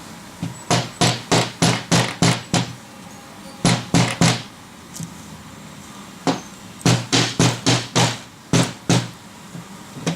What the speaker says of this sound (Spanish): Lo mismo, con el martillo hasta el final.